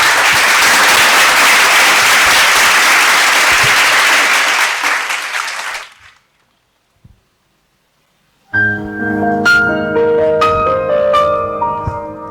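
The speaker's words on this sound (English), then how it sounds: "Let's give a big round of applause for our performers." Audience applause for performers at a school literary festival, dense loud clapping for about six seconds that fades to silence, followed by music starting up.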